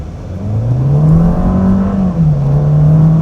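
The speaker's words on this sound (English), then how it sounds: "Let's check out the acceleration from the stop." A 2025 VW Jetta SE sedan accelerating from a stop on an open road, its engine droning and rising steadily in pitch, dipping briefly at a shift, heard loud from inside the cabin.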